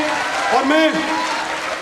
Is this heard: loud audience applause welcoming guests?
yes